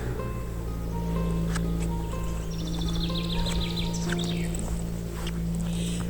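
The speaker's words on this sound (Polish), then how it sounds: "Słychać śpiew ptaków" Birds chirping and singing faintly in the background at a castle in Morsko, over a steady low hum, with scattered short calls and trills throughout.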